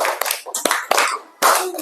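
Schoolchildren in a classroom perform the rhythmic 'tepuk semangat' spirit clap, with loud patterned bursts of group clapping mixed with their chanting voices.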